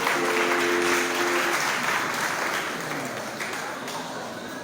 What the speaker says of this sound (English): Round of applause for the Vice Chancellor.